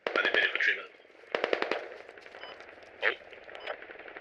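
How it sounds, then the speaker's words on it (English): Machine gun fire from a helicopter in the video game Squad rattles out in rapid bursts, a long one at the start and a shorter one later, with voices talking over the action. "It's a machine gunner shooting from the heli, I think."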